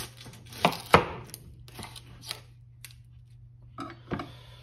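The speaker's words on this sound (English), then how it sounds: "cut the top off the onion, oops, the bottom. Cut this bad boy in half" A knife cuts through an onion on a cutting board, giving a handful of sharp, irregular chops and taps close by, with quiet pauses and a low steady hum underneath.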